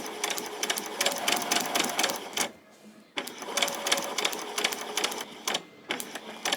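A sewing machine stitches a quarter-inch seam around a curve in rapid needle bursts, pausing briefly twice before starting up again, fairly close.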